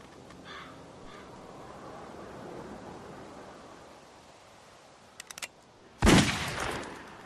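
A gunshot in The Walking Dead video game, a single sharp loud blast near the end that decays briefly, preceded by a few quieter clicks and faint ambient game sound.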